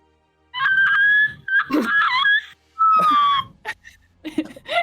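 A person's voice imitates a dog howling, a few loud, wavering whistle-like wails in short bursts, close up.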